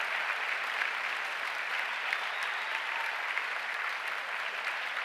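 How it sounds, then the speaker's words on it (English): Audience applause for graduating students at a Jack Hille Middle School graduation ceremony, a sustained, even wash of many hands clapping at a steady loudness throughout, with no speech. "Please join me in giving them all a warm round of applause for their academic achievements"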